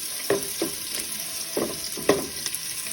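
Diced onions sizzle in about two tablespoons of hot oil in a pot, a steady close hiss broken by several sharp taps and scrapes as a utensil stirs them.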